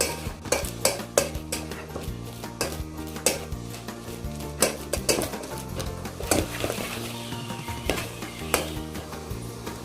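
A spoon stirs and mashes a cooked semolina (rava) mixture for kheer in a pot, giving steady, close scraping and knocking strokes with a faint sizzle and a low hum underneath.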